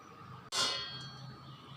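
Raw jackfruit pieces drop into a metal pot with a single bright clang that rings out and slowly decays, heard alone against a quiet background.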